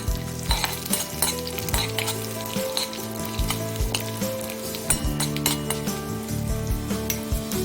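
Mustard seeds and dried red chilies temper in hot oil for a mango and coconut chutney, giving a steady close sizzle and crackle with stirring and light clinks of a metal utensil against the pan, no voices.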